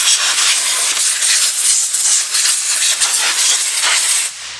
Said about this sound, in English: We just use a regular wand on our air compressor.